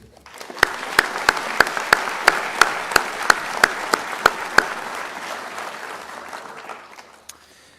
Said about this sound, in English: let's just give a round of applause to those that help support these young people in their journey